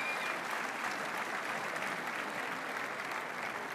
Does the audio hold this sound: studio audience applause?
yes